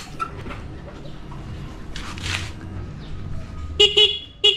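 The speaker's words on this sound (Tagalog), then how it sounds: "So ito yung stock horn natin." A weak, slightly raspy, worn stock horn on a Suzuki Raider 150 Fi motorcycle toots in a few short bursts near the end, over a steady low background hum.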